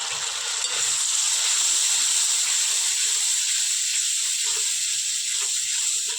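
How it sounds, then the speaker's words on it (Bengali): Cumin and coriander spice paste in a pan hisses and sizzles strongly right after water is added, a steady close frying hiss with faint spatters continuing throughout. "জল দিয়ে মশলাটা ভালো করে আমি আরও 5 মিনিট ভেজে নিব।"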